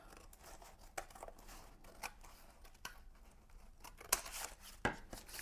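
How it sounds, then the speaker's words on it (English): Scissors snip through paper for a mixed media art journal in a quiet room, a series of close, crisp cuts with a few sharper clips and light paper rustle near the end, no talking. "And then we can cut this apart"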